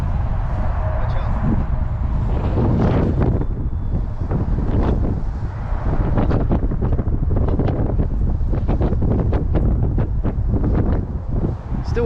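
Strong wind buffets the microphone with loud, continuous rumbling gusts and flutter on a windy day at an RC plane flying field, while people talk underneath.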